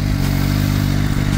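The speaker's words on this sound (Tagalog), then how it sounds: "Ito yung tunog niya, stock exhaust po yan. Dual exhaust siya." A CF Moto 500SR motorcycle idles through its stock dual exhaust, a loud, close, deep throbbing rumble with steady low pulses and a few clattery ticks.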